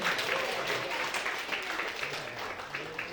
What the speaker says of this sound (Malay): Boleh kita bagi satu tepukan untuk Ilmina lah.